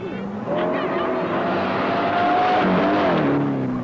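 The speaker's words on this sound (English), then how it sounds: "Preston Jr., Mercedes Coupe, drawn number 14" A Mercedes coupe rally car at the Safari Rally in Kenya, its engine roaring steadily with the pitch climbing and dipping through gear changes, loud and close, while a commentator talks over it.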